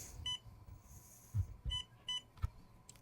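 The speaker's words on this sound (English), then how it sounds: "Good thing we have an audible beep, huh?" Four short electronic beeps from an Injora-upgraded FCX10 K5 RC crawler at irregular intervals, fairly quiet, with low thumps and faint background noise between them.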